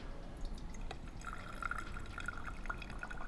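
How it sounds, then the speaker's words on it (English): Robusta coffee drips through a brewer after its valve is opened, a run of small, quick, bright drops and trickles over a steady low background hiss, with no talking. "Let it drip all the way through."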